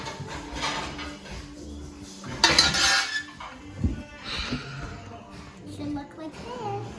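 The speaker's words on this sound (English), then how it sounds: "Oh, let me get some plates." Ceramic plates and dishes clatter and clink as they are taken out and handled in a home kitchen, with a sharp louder clatter partway through and quieter knocks of cutlery around it, near and fairly loud over low background sounds.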